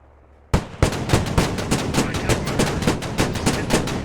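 Rapid, evenly spaced cannon fire from armored vehicles in a military video game battle at Gorodok, a loud burst of repeated sharp blasts starting suddenly from near silence and continuing at a steady rhythm.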